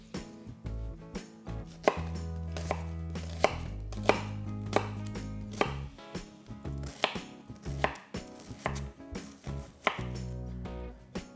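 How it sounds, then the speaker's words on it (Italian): Knife chopping onions into cubes on a cutting board for a soffritto, a steady run of quick, crisp taps close up, with a brief pause and varying rhythm, no talking. "Io inizio tagliando le cipolle a cubetti per un ottimo soffritto."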